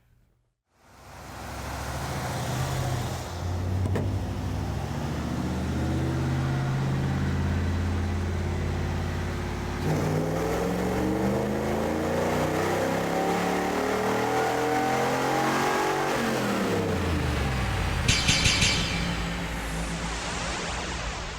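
A 1994 Camaro engine starts up on a dyno and revs hard through a long rising pull, its loud droning note climbing steadily before it drops off and backs down near the end.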